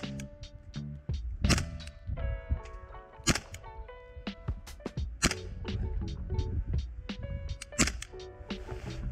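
Gas airsoft Glock replica pistol firing 0.28 g BBs at paper targets five metres away, sharp snapping shots spread across several seconds, close and loud, with clicks and mechanical clatter between them, no talk.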